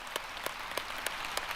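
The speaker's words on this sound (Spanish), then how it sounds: "Sí, un aplauso para ellos." Applause from a church audience in honor of single parents: a soft, even patter of many hands, with a few louder claps popping out at roughly regular intervals.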